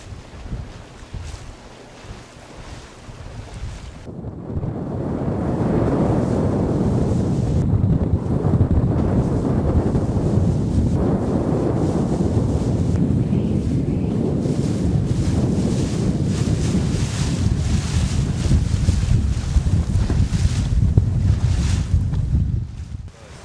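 Steady wind and rushing open water surround a rowboat racing through a channel in Finland, a loud continuous roar with wind buffeting the microphone and no voices.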